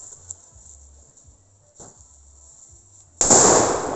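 A 2020 PS3 firecracker with green flame, its fuse crackling faintly over insect chirps before a sudden loud burst and hissing spray of sparks closes out the sound.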